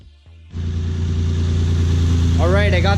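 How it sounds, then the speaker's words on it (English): A car engine fitted with a two-step launch control setup starts up and idles steadily and loudly close by, with a brief higher chirping sound near the end. "I got the engine running"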